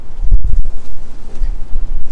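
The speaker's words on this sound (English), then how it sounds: "about the wind. There's trash and stuff blowing everywhere." Strong outdoor wind buffets the microphone beside a snowmobile trailer, giving loud, rumbling low gusts that rise and fall for about two seconds with no talking.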